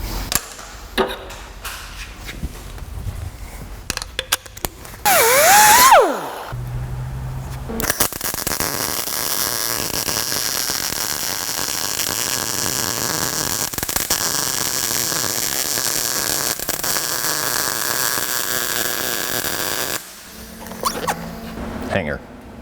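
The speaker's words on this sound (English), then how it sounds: "just put a little tack weld on there, and that should be my hanger" Tack welding a hanger onto the flange of a muffler on a truck, a steady harsh buzzing crackle sustained for about thirteen seconds after brief handling noises and a short squeal, close and loud.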